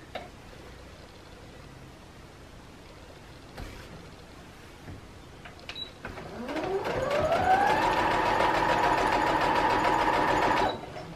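An electric sewing machine starts up after a few seconds of quiet room sound, its motor whine rising quickly in pitch, then holding a loud, steady hum with a fine rapid ticking of the mechanism until it stops abruptly.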